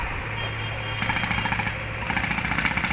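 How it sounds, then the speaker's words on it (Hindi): A large drilling machine works at a riverside site, giving a rapid, hammering mechanical rattle that cuts in and out over a constant engine hum, fairly far off and moderately loud. "ये देखिए कितनी बड़ी ड्रिल मशीन है वो"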